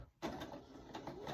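A sewing machine stitches a quilt seam for a Peppermint Starlight quilt. After a brief pause, a faint, steady mechanical whir runs close by with no talking.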